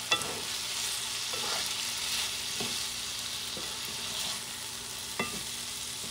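Cooked rice being stirred into beans in a pot for Puerto Rican arroz con habichuelas, soft scraping and stirring over a constant sizzle, with a few spoon knocks against the pot and no talk.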